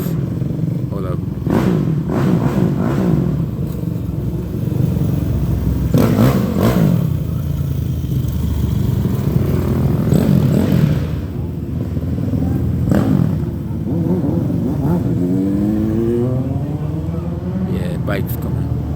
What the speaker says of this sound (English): Bikes coming.